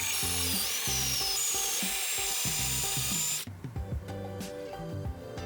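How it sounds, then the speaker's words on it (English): A power drill boring a hole into a carved wooden floral perfume holder, a loud, steady whine that runs continuously and then drops to a lower, rougher grind partway through. "I'm gonna drill this hole more so that doesn't happen again."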